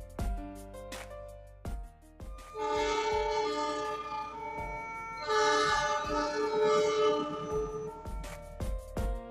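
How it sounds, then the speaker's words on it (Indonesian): A train horn blares in two long, loud blasts beside the railway track, with clattering rail noise around them. "Ya, klakson kereta api."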